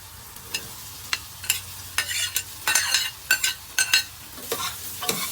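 Green papaya curry stirred in a pot, a series of distinct spoon scrapes and swishes in an irregular rhythm over a low simmering sizzle, close and clear.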